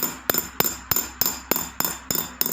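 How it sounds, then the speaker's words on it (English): A metal punch is hammered toward gemstones during stone setting, giving eight sharp, evenly spaced taps about every third of a second, close and crisp, with no voices. "Here I hammer metal towards the stones very slowly."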